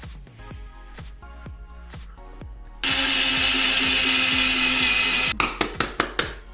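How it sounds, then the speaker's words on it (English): An electric grinder whirs loudly and steadily for about two and a half seconds as it grinds white poppy seeds in a farm kitchen, with light knocks and taps before and after. "Again, I'm going to grind it. And this is a special poppy seed, white one."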